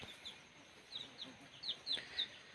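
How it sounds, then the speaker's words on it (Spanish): Soft, repeated clucks from a nearby Piroca Buche Pelón (naked-neck) hen, a handful of short calls spaced irregularly over faint background noise. "aquí se los presento con mi hermosa pollita piroca que tenemos"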